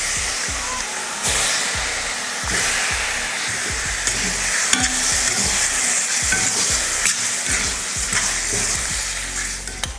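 Goat liver sizzling and sautéing in a hot pan, with a steady frying hiss and repeated stirring scrapes.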